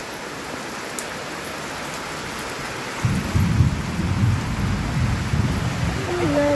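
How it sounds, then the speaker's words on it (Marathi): Steady heavy rain with deep thunder rumbling; partway through the downpour swells into a louder, fuller roar. "पाऊस चालू झाला"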